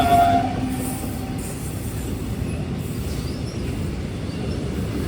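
A goods train passes at night near Gokarna Road in a loud, steady rumble of wagons, with a brief horn-like tone at the start and faint wheel squeals over the continuous rolling noise.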